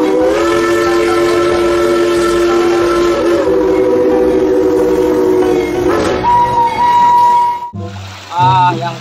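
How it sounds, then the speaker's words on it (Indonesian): A toy Thomas the Tank Engine train in red plays a sustained whistle-like tone and chugging sounds, followed by a brief electronic jingle. "Wih, kereta Thomas warna merah"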